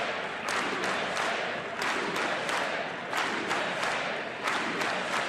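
A large crowd at the State of the Union cheers and applauds in a loud, continuous roar, with repeated swells of shouting rising over steady clapping throughout.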